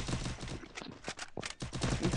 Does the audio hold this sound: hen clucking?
no